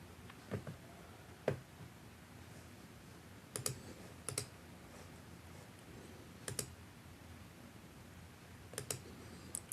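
Sparse mouse clicks while navigating a WordPress dashboard: scattered short, crisp clicks, some in quick pairs, spaced a second or more apart over a quiet background.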